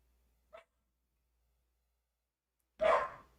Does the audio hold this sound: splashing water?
no